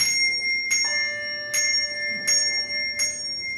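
A handbell rung during a bell-ringing class, struck four times at a steady, even pace, each bright metallic ding ringing on and overlapping the next, close and clear with no talk.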